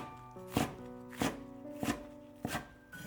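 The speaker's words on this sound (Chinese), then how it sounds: "洗好的白菜放到案板上，给它切成细丝，尽量切均匀一些" A knife shreds napa cabbage on a cutting board with four crisp, evenly spaced chops, each a sharp thud with a short woody ring.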